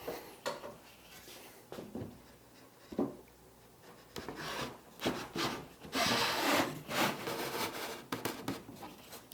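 A wooden panel being worked into a tight, damaged dado on an armoire build, heard as close, quiet wood-on-wood rubbing and scraping with scattered knocks and creaks in irregular bursts, ending in a longer stretch of grinding friction.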